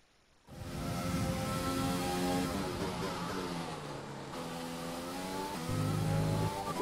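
An F1 car engine in the racing game F1 2020 drones steadily through a lap, its pitch rising and dipping through gear changes and lift-off into corners, loud and continuous with no talk.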